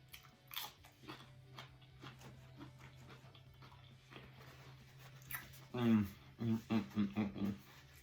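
Someone bites and chews Nathan's onion rings and a bacon pita up close, producing crisp crunches and a run of rhythmic chewing bursts near the end, after earlier softer mouth sounds and talking.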